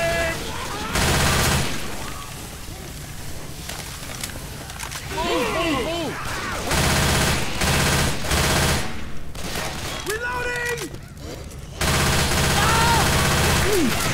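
Rapid gunfire from the co-op zombie shooter Left 4 Dead 2, with dense automatic bursts and volleys that stop and start across the stretch, mixed with in-game voices and effects.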